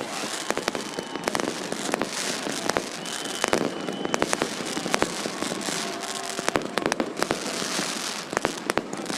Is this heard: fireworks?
yes